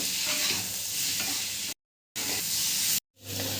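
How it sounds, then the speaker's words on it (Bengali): Tomatoes with salt, chili powder, turmeric and cumin powder are stirred and fried in a pan. A loud, continuous sizzle with scraping runs close up, broken by two short silent gaps. "আমি এটাকে বেশ কিছুক্ষণ ধরে নাড়াচাড়া করেছি, টমেটোগুলো আমার নরম হয়ে গেছে।"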